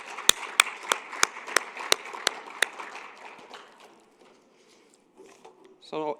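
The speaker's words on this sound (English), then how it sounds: "Let's give him another round of applause." After a speaker at a water convention, sparse applause plays: a handful of sharp, evenly spaced claps ring out near the microphone, then thin scattered clapping dies away, followed by faint stirring and a brief sound at the end.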